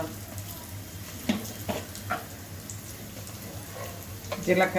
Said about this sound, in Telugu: చక్కగా ఇలా వేగినాయండి